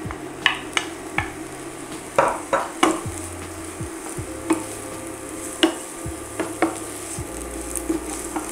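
Onions sautéing in a pan for a mushroom dish, a steady sizzle broken by repeated sharp clinks and scrapes of a utensil stirring against the pan, close and moderately loud, with no talking.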